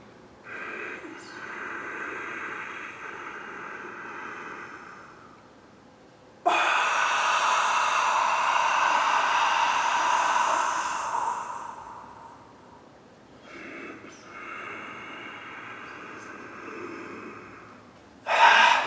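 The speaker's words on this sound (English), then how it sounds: "you're sucking your stomach in and just breathing in as deep as you possibly can." Slow deep breathing exercise: long, loud, airy inhales and exhales close to the microphone, a sustained rush in the middle, then quieter breaths and a sharp final gasp.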